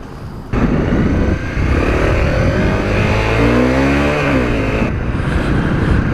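A Honda CRF 250L motorbike ridden on local roads, its single-cylinder engine loud and close as it accelerates and revs through rising gear changes, with steady wind noise and no talking.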